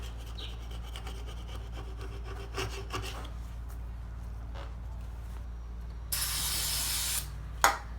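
Stick-on adhesive wheel weights are scraped off a wheel rim in scattered, faint rubbing scrapes over a low hum, followed near the end by a steady, louder hiss lasting about a second and a sharp final knock.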